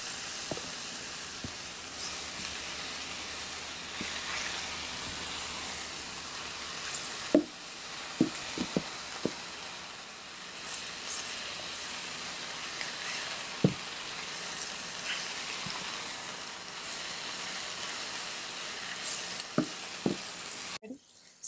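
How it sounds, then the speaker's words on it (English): Spinach wilts in a hot pan with a soft, continuous sizzle and hiss throughout, broken by occasional utensil clinks and stirring scrapes, fairly quiet and close. "I'm going to add the spinach last. And just let it wilt."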